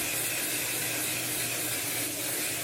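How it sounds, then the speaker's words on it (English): Makeup setting spray misted from a bottle, a continuous close hiss that lasts the whole moment without pause. "Setting spray."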